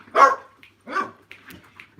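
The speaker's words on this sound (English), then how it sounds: "Dogs outside." Dogs bark outside in short bursts: two loud barks close together, then a few fainter yips and whimpers trailing off.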